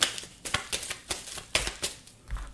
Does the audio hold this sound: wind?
no